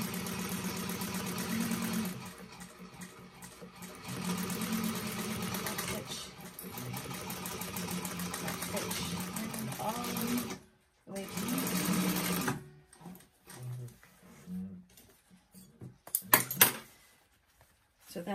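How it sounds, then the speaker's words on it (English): Sewing machine backstitching bag connectors, with long motorized runs broken by pauses and then short stop-start bursts and clicks, under occasional talking. "I like to just do a quick backstitch where they start and where they stop"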